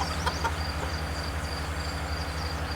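Chickens in a farm coop cluck and crow in short bursts over a constant low hum, fairly close, with no talking.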